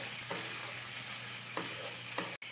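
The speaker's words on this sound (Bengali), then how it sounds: "এটাকে আমাকে একটুখানি ভাজতে হবে এখন।" Gobindobhog rice fries in ghee for pulao with a steady, close sizzle, broken by a few soft stirring strokes and a brief drop near the end, with no talking.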